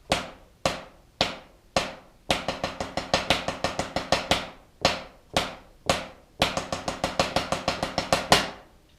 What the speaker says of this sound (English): We're going to play some quarter notes and then 2 sets of 6-stroke rolls.